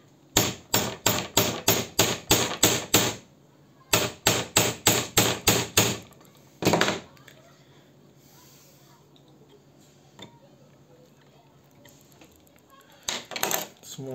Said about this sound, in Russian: Взяли мы ее в тиски, молоток, как на том видео, и начинаем бить и смотреть.